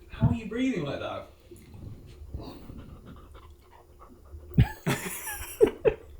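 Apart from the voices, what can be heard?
dog panting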